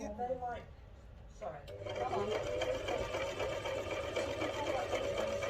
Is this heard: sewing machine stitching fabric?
yes